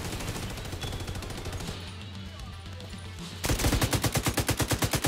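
Rapid automatic gunfire in The Division 2, continuous and close, bursting into a louder, sharply rhythmic stream of shots near the end with a quieter stretch of lower rumbling in between.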